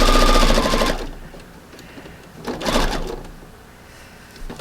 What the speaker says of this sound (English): I sew almost a ½ inch around to make sure I've got all the edges of the fabric